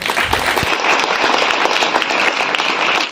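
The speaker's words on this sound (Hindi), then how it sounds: "तालियां बजाएंगे उसके लिए ना" A congregation at a Hindi sermon gives loud, dense applause, a steady wash of many hands clapping at once that stops abruptly at the end.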